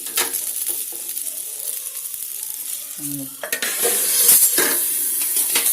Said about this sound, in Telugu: ఇప్పుడు మళ్ళీ మూత తీసి నేను కలిపాను